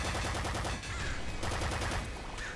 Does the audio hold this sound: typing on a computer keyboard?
no